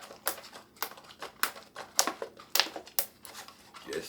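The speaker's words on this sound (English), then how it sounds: "and zip it shut." Mylar food-storage pouch being zipped shut, heard as a series of close, crisp clicks and snaps at an irregular, roughly half-second rhythm, with no talking.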